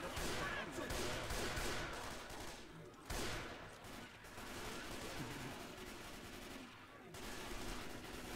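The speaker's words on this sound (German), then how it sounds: "Auf die Meute erstmal draufballern" Gunfire aimed at a zombie horde in the video game Left 4 Dead 2 comes as a dense, continuous barrage of rapid shots with brief lulls, fairly loud throughout.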